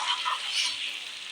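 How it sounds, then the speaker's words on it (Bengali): Minced garlic sizzles gently in a pan, a soft, even, airy hiss heard close up for a brief moment. "রসুন কুচিটা খুব কড়া করে ভাজা যাবে না"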